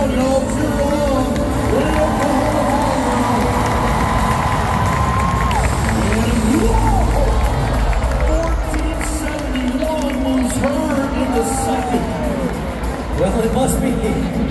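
A rodeo arena crowd at the Houston Rodeo semifinals cheers and shouts continuously and loudly while an announcer's voice talks over the din.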